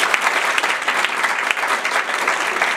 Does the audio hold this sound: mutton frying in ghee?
no